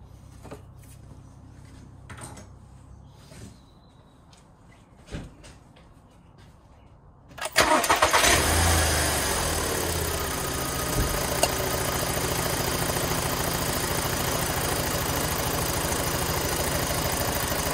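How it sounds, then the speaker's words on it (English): Volkswagen Passat B6 with a 2.0 petrol engine and automatic gearbox, after spark plug and coil pack replacement: a few soft clicks and knocks, then the engine cranks and catches, settling into a steady, smooth idle close by. "I'm gonna start the car and make sure it's running properly"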